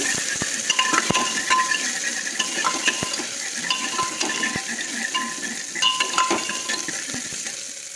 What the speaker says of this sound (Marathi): अद्रक लसूण पेस्ट आणि कांदा छान लाल होईपर्यंत परतायचा आहे